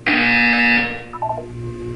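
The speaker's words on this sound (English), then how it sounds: "You will hear a buzzer." A loud electronic buzzer from the video game Portal 2 blares in one sustained tone for under a second, followed by a short burst of lower beeping tones.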